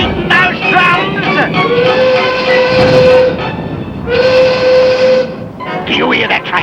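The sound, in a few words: train pulling away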